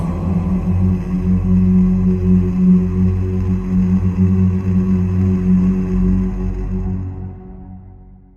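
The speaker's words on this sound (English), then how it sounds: "Throat chakra mantra is Ham." A single voice chants the throat chakra mantra "Ham" as one long, steady, resonant drone that holds evenly and then fades away at the end, alone with no other sounds.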